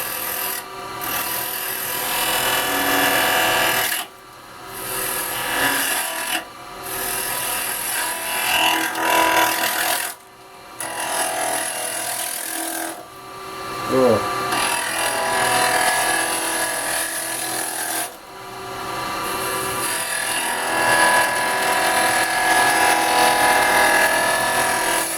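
Resin bowl spinning on a wood lathe while a round carbide chisel cuts it, giving a steady close scraping and rasping hiss broken by several short pauses as the tool lifts away.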